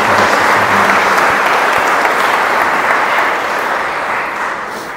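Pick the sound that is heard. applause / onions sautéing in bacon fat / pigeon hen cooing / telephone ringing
applause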